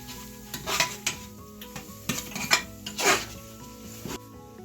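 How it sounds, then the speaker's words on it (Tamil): Masala powders are sautéed in a pan for chicken biryani: a spoon repeatedly scrapes and clinks against the metal pan in uneven bursts over a low sizzle, with no talking. "இது மசாலா பொடிகளை எல்லாம் உள்ள போட போறோம். நல்லா வதக்கணும்."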